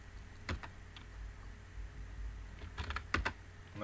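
Short bursts of keystrokes on a computer keyboard while entering answers in a digital flash card app for Japanese study, a few quiet clusters of taps over a soft steady background hum.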